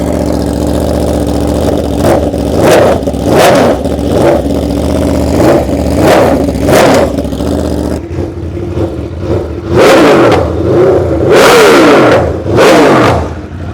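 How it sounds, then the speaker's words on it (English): An Aprilia RSV4 V4 superbike fitted with an SC Project GP22 exhaust revs hard from idle, loud and close, with about eight sharp throttle blips rising and falling in quick succession over a rumbling base. "This bike also has an SC Project GP22 exhaust, which I'm gonna show you guys what it sounds like right now."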